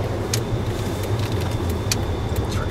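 A John Deere green car passes by on a road, a moderate steady engine and tyre hum with a few faint clicks, no voices.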